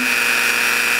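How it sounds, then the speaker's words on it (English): A Dremel rotary tool grinds against a metal rod, throwing sparks, with a steady, loud high-pitched whine heard close up throughout the brief moment. "jog the Dremel tool toward the rod"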